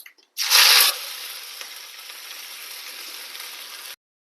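Crushed garlic, shallots, green chili, cumin and curry leaves drop into hot oil with a loud initial hiss that settles into a steady, even sizzle for a few seconds before stopping abruptly, with no talking.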